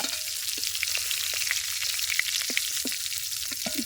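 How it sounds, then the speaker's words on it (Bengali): Fish fried crisp in hot oil in a pan, a steady close sizzle with little pops and crackles scattered throughout, no voices. "একটু মিষ্টি নুনের মাছ একটু কড়া করে ভাজা লাগে"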